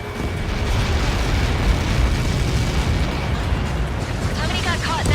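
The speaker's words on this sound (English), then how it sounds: "How many got caught in that explosion?" A huge explosion from Helios projectiles in Ace Combat 7 roars as a sustained, dense rumbling blast, loud and close, tailing off with a brief radio-like chirp near the end.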